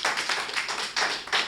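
An audience claps at a Hindi poetry gathering (kavi sammelan), steady dense clapping throughout, loud and close, swelling slightly near the end, with no voices over it.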